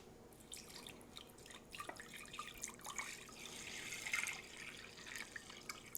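Water poured into a vase holding dissolved flower preservative for an alstroemeria and rose arrangement, a soft trickling and splashing fill that swells gradually and stays fairly quiet, with no talking.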